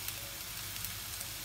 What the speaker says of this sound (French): on va faire revenir nos boulettes aussi